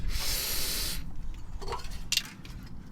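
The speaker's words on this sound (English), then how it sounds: "I'm going to spray these with some Bulldog just to make it easier to remove" A loud hiss of aerosol penetrating lubricant sprayed onto a Ford Focus Mk2 catalytic converter pipe hanger lasts about a second, followed by quieter handling noises and a couple of short clinks.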